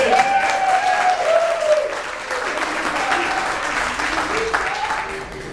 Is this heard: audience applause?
yes